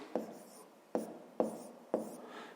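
Four short scratchy pen strokes on paper, spaced about half a second apart, close and fairly quiet, as numbers for a fifth-grade math equation are written down, with no talking.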